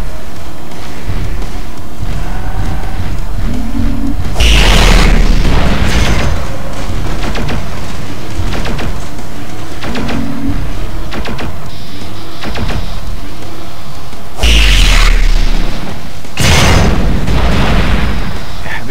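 Giant LBX autocannons fired by Argus mechs in MechWarrior 4, with heavy booming blasts and rumbling bursts rolling over a constant loud mechanical drone, punctuated by a few sharper explosive hits.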